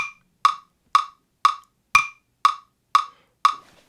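A metronome app ticks eight evenly spaced sharp clicks about half a second apart, with the downbeat and quarter notes sounding crisp and bright against silence.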